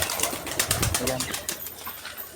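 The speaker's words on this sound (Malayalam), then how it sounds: "ഇപ്പം തന്നെ നല്ല വിശപ്പുണ്ട് പ്രാവൾക്ക്" Pigeons being fed at close range, with bursts of wing flapping and scuffling over a busy, noisy background, the bird sounds fading toward the end.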